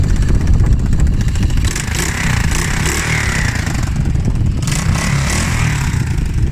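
A monkey bike engine, just fitted with a new clutch, runs loudly and close with a rough, rapid low-pitched putter and slight shifts in pitch, steady throughout without a break.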